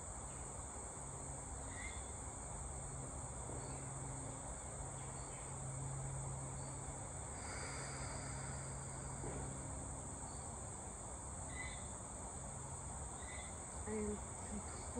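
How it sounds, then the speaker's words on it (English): Crickets chirping outdoors beside a tree, a dense steady high trill that fills the whole stretch, with a few faint bird calls above it and no talk. "crickets."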